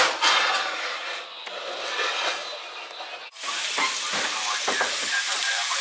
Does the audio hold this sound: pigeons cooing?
no